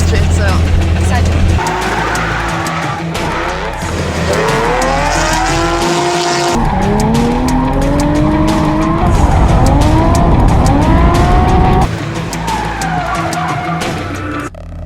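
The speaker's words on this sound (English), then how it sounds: "And when Charlie drift, it's a different level" A car drifting with loud, sustained tire squeals rising and falling in pitch over a roaring, revving engine, close and continuous throughout.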